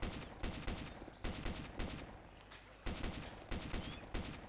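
Rapid bursts of gunfire in the video game DayZ Epoch, repeated volleys with short gaps between them, loud and close throughout.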